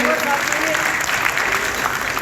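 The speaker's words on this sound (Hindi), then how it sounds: "एक बार तालियां बजनी चाहिए कि नहीं बजनी चाहिए?" Audience applause fills an award ceremony hall, a steady dense wash of clapping held at an even level for a couple of seconds with no break.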